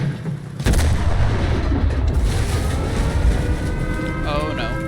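Alecto 1 weapon firing in a video game, a heavy sustained barrage of booming shots with dense rumbling explosions, loud and continuous after a brief quieter start, with a voice talking over it.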